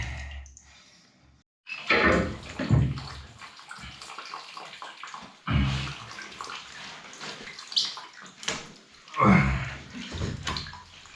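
Water gushes and splashes from an old iron pipe radiator being drained during a swap, coming in several separate bursts between quiet pauses, fairly close and indoors.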